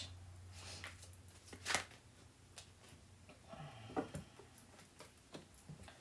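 Tarot cards being shuffled by hand, heard as soft, quiet papery ticks and flicks in irregular bursts, with a couple of sharper slaps standing out against a hushed room.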